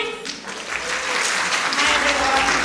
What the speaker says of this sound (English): give a warm round of applause for Ella Tan, please